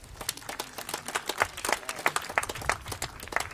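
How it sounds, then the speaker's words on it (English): Applause at an awards ceremony honouring early childhood teachers in Enfield, St Mary, with scattered hand claps spiking irregularly over a low murmur, moderately loud and without clear speech. "Give him a round of applause."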